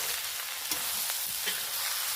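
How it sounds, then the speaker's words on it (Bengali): Onions with a pinch of salt frying in oil for a home-style chicken curry, a steady broadband sizzle with a few soft stirring clinks, close and even throughout. "পেঁয়াজটা ভাজতে ভাজতে বলি"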